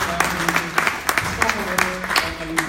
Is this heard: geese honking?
no